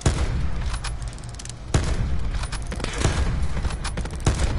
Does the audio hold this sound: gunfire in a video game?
yes